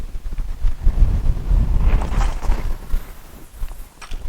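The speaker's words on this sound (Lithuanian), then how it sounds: "vėjas nepadeda" Wind gusts across an open pond during a fishing practice session, a steady low rumble buffeting the microphone throughout, swelling and easing without any talk.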